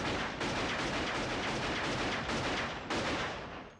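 Gunshots from the film Pulp Fiction, where two hitmen shoot their victims: several loud, sharp blasts ring out in a dense burst, each one hanging on in a noisy roar, with no talking.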